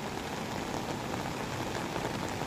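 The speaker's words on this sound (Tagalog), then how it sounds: "medyo lumilitaw yung gitna ng kalsada kasi medyo humina ang ulan" Rain falling on a road during a storm, a steady dense hiss of drops pattering on wet pavement, even and unbroken from start to finish with no voices.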